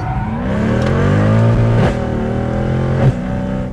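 A car engine revs and surges during a drift, the throttle feathered and reapplied; sustained, loud engine tone rises and falls, dipping briefly as the gas is lifted, then climbing again, with no voices heard.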